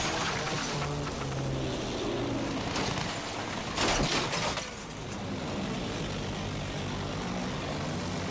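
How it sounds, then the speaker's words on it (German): An enemy propeller fighter plane in the Battlefield 1 video game drones steadily, its engine swelling into a louder close pass midway before settling back to a continuous hum, with no voices. "Feindliches Flugzeug gesichtet!"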